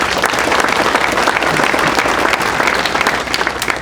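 A Hall of Fame ceremony audience gives sustained, loud applause for an inducted athlete, a dense and continuous clatter of many hands filling the whole stretch without pause.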